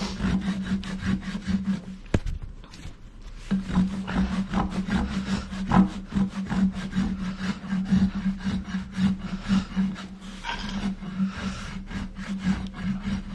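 A rasp worked over a horse's hoof during a corrective barefoot trim, rhythmic back-and-forth scraping strokes, close and steady, with one brief pause early on before the filing resumes at an even pace.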